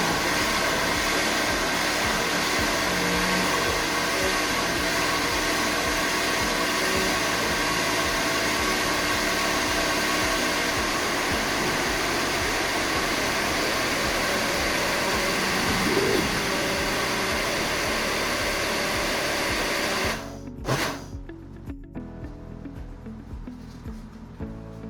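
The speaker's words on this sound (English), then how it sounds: "Carefully transfer the tomato mixture into a blender and blend for about a minute" A kitchen blender purees a tomato mixture for butter chicken, a loud, constant motor whir with a steady whine that runs unbroken for about twenty seconds, then stops, leaving a few faint clatters.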